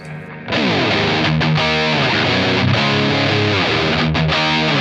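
Heavily distorted electric guitar through a Mosky D250X distortion pedal, a DOD 250 clone, loud and close, playing sustained chords and sliding notes with a gritty, saturated tone; no talking.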